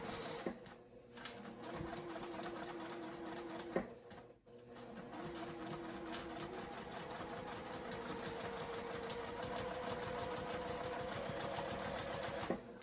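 A sewing machine stitches through thicker fabric while making a zippered crossbody bag. It gives a steady, rapid mechanical whirring and clatter at close range, with a brief pause near the start, then runs on continuously without talking.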